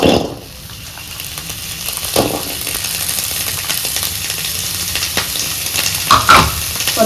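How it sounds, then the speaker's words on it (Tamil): About 150 grams of small onions sauté in a little oil in a pan for a mushroom kulambu, giving a close, continuous sizzle broken by occasional stirring scrapes and clinks, with no talking. "வாங்க நம்ம வெங்காயத்தை எண்ணெயில வதக்கிக்கலாம்"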